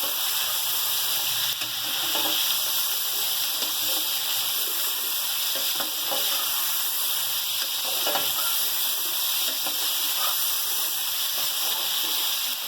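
About 1.25 kg of meat frying in a pot for nalli nihari, a steady close sizzle and hiss running throughout with faint stirring clinks and no talking.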